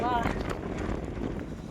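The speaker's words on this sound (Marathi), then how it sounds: "कठीण वारा आहे, तुम्हाला सांगतो ना आयुष्यात मी असा वारा बघितलेला नाही." Strong wind buffets the microphone on the hillside at Vishramgad fort, a loud continuous low roar with gusting rumble that runs through the whole stretch, with a brief voice near the start.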